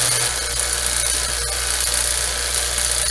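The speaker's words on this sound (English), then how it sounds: "So we're going to go ahead and shut the tank down and then turn off the vacuum pump." A vacuum pump evacuates a refrigerant recovery tank with a steady, loud mechanical drone and hiss, unbroken and close throughout.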